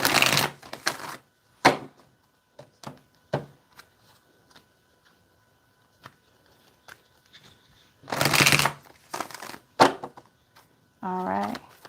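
Tarot cards being shuffled, with bursts of riffling flutter in two main clusters and scattered soft taps and card snaps between them, close and fairly quiet, with a short voiced sound at the end.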